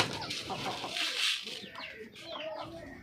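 Backyard hens cluck and chatter softly at close range while being scattered rice in the morning, with a few brief sharper calls among them.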